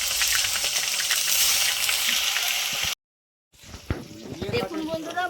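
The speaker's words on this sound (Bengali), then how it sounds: "তেল গরম হয়ে গেছে, এবার আমি মাছগুলো ভেজে নেব।" Bhola fish frying in hot oil, a loud continuous sizzle that cuts out briefly, then returns with sharper spitting crackles and stirring clatter.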